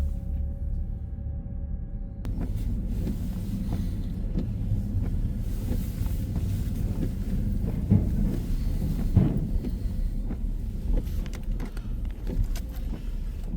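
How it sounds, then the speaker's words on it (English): A ferry's boat motor gives a steady low rumble that fills the whole stretch, close by and continuous, with faint clanks and rattles on top. "Probably just the boat motor."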